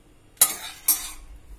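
Dried red chillies being dry-roasted and stirred in a kadai without oil, two sharp scraping clatters of a spoon against the metal pan, close and brief.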